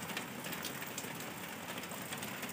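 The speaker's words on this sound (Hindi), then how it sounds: "बारिश तो हो रही है दमादम दमादम, रुकने का नाम ही नहीं ले रही है" Heavy rain pours steadily into a home courtyard, a dense, even hiss of drops hitting hard surfaces that stays loud and unbroken throughout, with no voices.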